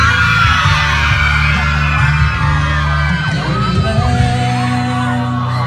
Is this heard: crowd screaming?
yes